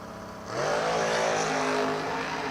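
A pair of drag race cars, one of them a Mopar, launch and roar off down the track together, the engine noise swelling quickly into a loud, sustained howl as they pull away side by side.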